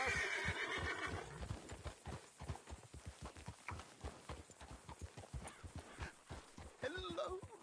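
A horse whinnies loudly at the start, followed by steady clip-clopping hooves trotting at a quick rhythm, with a faint voice near the end, in the video game Red Dead Redemption 2.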